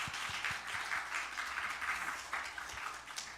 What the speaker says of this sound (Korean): 우리 하나님께 우리 영광의 박수 올려드렸으면 좋겠습니다